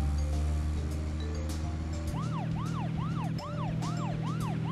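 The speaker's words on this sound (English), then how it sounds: "I like that I can use the siren." A wailing vehicle siren in the video game Deadly Premonition sweeps up and down in a regular cycle over a low engine drone, with rumbling game background sounds.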